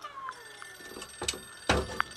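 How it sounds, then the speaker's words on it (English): An old-fashioned vintage telephone rings faintly in a home, its bell sounding in short bursts with clicks and bumps around it, heard at a distance. "It's a vintage phone."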